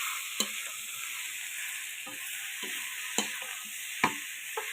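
Vegetables (potato, pointed gourd, broad beans and eggplant) are sautéed and stirred in a hot pan, with a steady bed of sizzling broken by a few sharp scraping clicks of the spoon against the pan.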